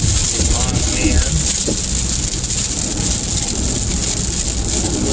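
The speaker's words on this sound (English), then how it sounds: "I wonder if you guys can hear the rain." Steady rain falls outside an open window, a dense continuous hiss filling the whole stretch at fairly close range, with faint low rumbles beneath and no voices over it.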